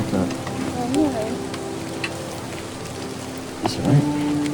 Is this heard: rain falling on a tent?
yes